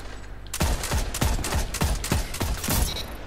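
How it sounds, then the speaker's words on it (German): Rapid gunfire in a Destiny 2 competitive PvP match, about eight sharp close shots in an even rhythm, loud and alone over a steady game background. "Ich schieße nur an, ich damage nur"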